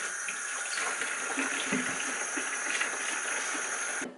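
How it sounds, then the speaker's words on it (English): Plain warm water runs steadily from a tap while leather boots are rinsed, a continuous close splashing stream that cuts off at the end. "And then just give it another little go over with some plain warm water."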